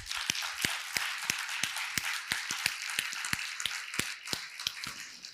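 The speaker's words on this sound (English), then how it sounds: "let's give these guys a great round of applause." Conference audience clapping for a payments panel, a sparse scatter of individual hand claps from a smallish crowd, irregular and fairly quiet, with distinct sharp claps standing out.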